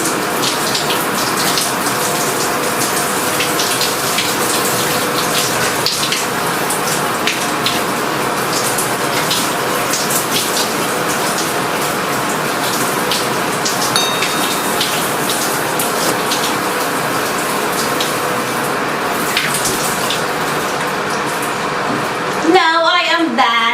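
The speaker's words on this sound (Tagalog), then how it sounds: "Taking a shower." Steady hiss of running water spraying down, like a shower, continuing for about twenty seconds before cutting off abruptly near the end.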